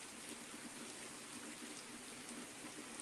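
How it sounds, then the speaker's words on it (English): Heavy rain from a rainstorm pours steadily as a dense, even hiss of drops on surfaces, continuous and fairly close with no voices. "I will say this is definitely a nice little rainstorm that we needed."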